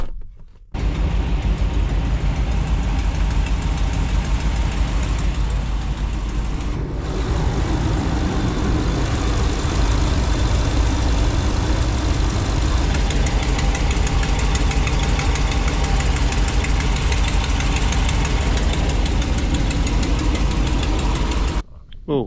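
A truck engine runs steadily with a rough, knocking idle from an exhaust leak, close and loud for about twenty seconds, with faint talk at times.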